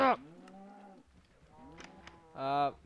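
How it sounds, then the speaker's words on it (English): Cows moo in Minecraft, three clear low bellowing calls spaced across a couple of seconds, fairly close and alone with no talk over them. "So now we gotta deal with the cows."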